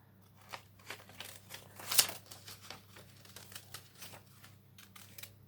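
Scissors snip through a small yellow paper circle in a run of quiet, irregular crinkly cuts and paper rustles, with one sharper snip standing out, close and soft, with no talking.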